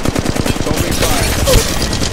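Rapid automatic gunfire in Apex Legends Mobile on Kings Canyon: a tight burst of loud shots rattles at the start, then trails into a denser, steady wash of battle noise.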